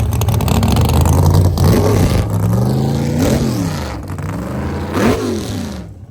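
A 1972 Chevy Nova nitrous drag car revs loudly and alone, its engine note climbing and falling in several sharp, rising throttle blips over a steady heavy idle rumble.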